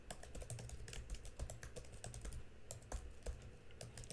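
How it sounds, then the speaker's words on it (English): Typing an email on a computer keyboard gives a quiet, close run of rapid, uneven key clicks with no speech. "So type your email,"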